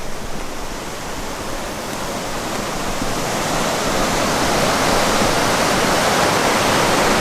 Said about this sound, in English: there is a ton of water